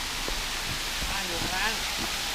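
A private waterfall running through a house in Chiang Dao, Thailand, gives a constant broad rushing hiss, close and even, with people talking over it.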